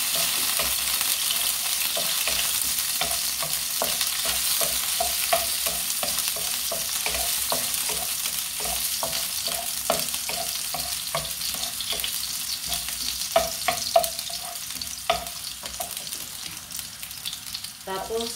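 Garlic fries in hot oil in a pan for adobong sitaw, a continuous close hiss of sizzling with regular scraping stirs and small clicks of the spatula throughout.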